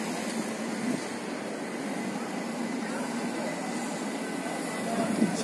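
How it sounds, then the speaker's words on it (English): Bern railway station (Bern Bahnhof) ambience with trains: a steady, broad rumble and hiss of rail traffic fills the space continuously, with a slight swell near the end. "This is the Bern railway station"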